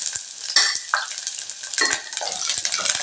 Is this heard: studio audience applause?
no